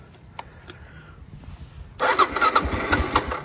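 A cold first-generation Kawasaki KLR 650 motorcycle fires up after about two seconds of quiet, its engine catching abruptly and settling into a loud, uneven idle close by.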